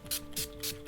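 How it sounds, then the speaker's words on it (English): NYX matte finish makeup setting spray misted onto a face, three or four short, soft hissing bursts in quick succession, close and fairly quiet. "I'm going to take my matte finish setting spray."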